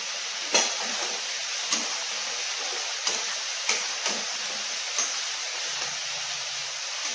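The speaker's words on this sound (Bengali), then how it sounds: "মশলাটা এইভাবে কষাতে হবে।" Masala spices being fried and stirred in a pan for fish head curry, a steady broadband sizzle with a few sharp clicks and scrapes of the spoon spaced through the clip, close and moderately loud, no talking.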